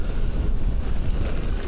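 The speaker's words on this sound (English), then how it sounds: "Man, it's windy today." Strong gusting wind buffets the microphone outdoors, a loud continuous low rumble and roar with no voices, filling the whole moment.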